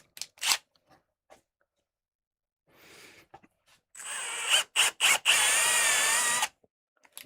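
Sandpaper rubbing a soft, partially rotten poplar bowl spinning on a wood lathe, coming in several short scratchy bursts and then a longer sustained hiss, with quiet gaps between.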